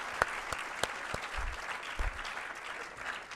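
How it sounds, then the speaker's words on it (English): An indoor business school audience applauds for an honored guest at a leadership lecture event, steady clapping at moderate distance with a few sharper individual claps standing out. "let's give a big round of applause to Wayne Chaplin."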